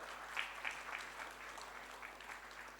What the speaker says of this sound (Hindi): मैं चाहूंगा आप सब उनके लिए एक बार जोरदार तालियां बजाएं।